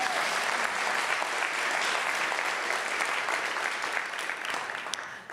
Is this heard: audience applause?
yes